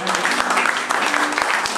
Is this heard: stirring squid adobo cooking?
no